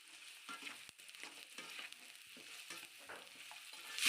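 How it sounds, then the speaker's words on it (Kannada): Onion and carrot fry quietly in a pan for fried rice, a soft steady sizzle broken by repeated scraping strokes of a stirring spoon. "ಕ್ಯಾರೆಟ್ ಹಾಕ್ಕೊಂಡು ಚೆನ್ನಾಗಿ ಮಿಕ್ಸ್ ಮಾಡ್ಕೊಳ್ಬೇಕು"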